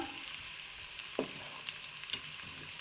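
Mixed vegetables fry quietly in ghee, a soft continuous sizzle with a few faint pops and stirring clicks, close but low in level with no talking.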